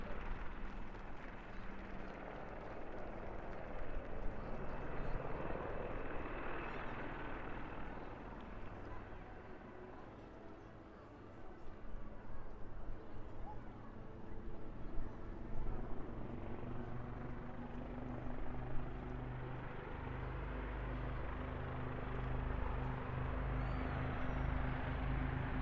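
Royal Navy Black Cats helicopters fly their finale manoeuvre at an airshow display over Eastbourne, a steady rotor and engine roar swelling and fading across the whole stretch, heavy low rumble with wind, while a commentator talks over it.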